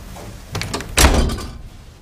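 A door clicks and then shuts with a solid thump in a domestic interior, two close impacts within about a second, followed by a short fading rattle.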